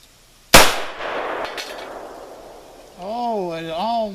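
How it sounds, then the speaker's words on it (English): A single sharp, loud shot from a 6.5 Grendel rifle being sighted in, cracking close by and decaying into a ringing echo, followed by someone talking. "you're going to watch me fire my first rounds through this."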